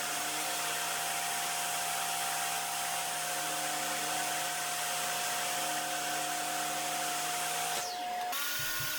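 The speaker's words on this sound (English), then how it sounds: "Still throwing it on the table saw since hand planing like this, you can't necessarily get a perfectly square edge." A table saw runs steadily, squaring the edge of a walnut/hickory blank. A constant loud whine holds for about eight seconds before the blade winds down near the end.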